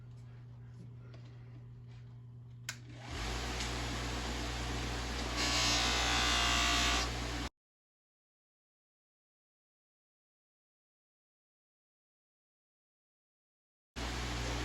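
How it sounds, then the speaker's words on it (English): A buffing wheel spins against H&R 12 gauge shotgun metal loaded with black polishing rouge, a close steady whir that rises to a harsher grinding hiss while the piece is pressed in, then cuts off to silence before starting up again. "when you're using the black polishing rouge, don't expect it to get nice and shiny"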